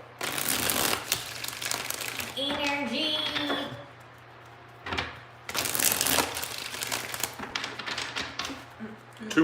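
Tarot cards shuffled by hand in bursts of dense, crisp riffling and tapping, pausing briefly between rounds, with a voice speaking softly in the quieter gap.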